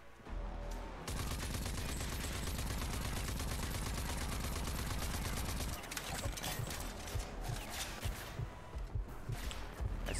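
Enemy automatic gunfire rattles in Rage 2, a rapid steady stream of shots lasting several seconds, then breaking into scattered bursts and single cracks, fairly distant and moderately quiet.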